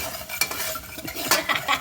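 Chicken neck and wings stirred in a pot for Filipino chicken macaroni soup, with a soft sizzle and a few clinks and scrapes of a spoon against the pot, close, no voices.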